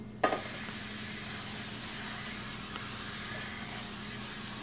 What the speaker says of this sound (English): You're going to shake up your bottle of pan, Or generic pan. or whatever you got. And you're going to spray away.